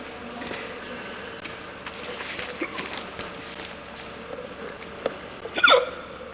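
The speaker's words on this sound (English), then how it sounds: "Why do you have the hiccup so much?" In a museum building in England, a single sharp hiccup pops out near the end over quiet room ambience and faint footsteps.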